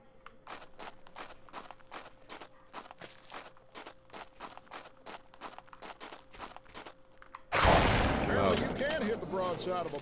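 Rapid repeated gunshots in the hunting game Cabela's Alaskan Adventures, an evenly spaced burst of sharp cracks, followed by a sudden loud rush of noise.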